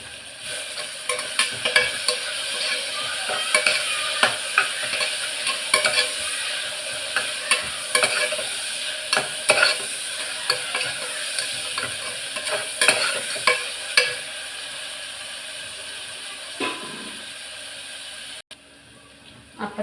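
Curry leaves crackle and fry in hot oil in a pan, with steady sizzling broken by repeated scraping stir strokes throughout, close up and with no talking.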